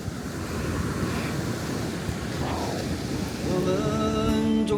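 Sea waves wash steadily onto the shore at Shiraoi, Hokkaido, a continuous broad rushing roar with wind buffeting the microphone, joined near the end by a faint tonal hum.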